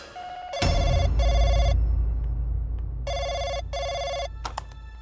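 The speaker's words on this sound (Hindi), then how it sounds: "फोन आया मोनिका को, हेडफोन लगा" A telephone rings indoors, four bursts of a bright electronic trill in two pairs separated by a pause, fairly loud over a low background hum, with a couple of clicks at the end.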